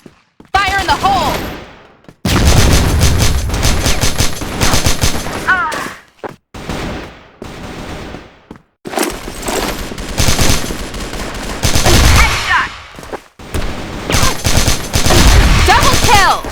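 KAC ChainSAW light machine gun in the shooter game CrossFire Vietnam 2.0, loud sustained automatic bursts separated by brief pauses, close and dominant throughout.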